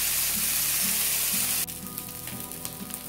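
Bread dhokla pieces fry in oil over a slow flame with a continuous close sizzle. Partway through, the hiss drops sharply and then goes on more softly, with faint crackles.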